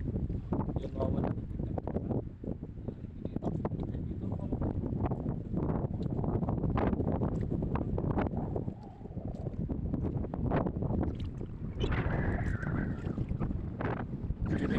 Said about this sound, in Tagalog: Kalakasan na yung hangin mga ka-idol.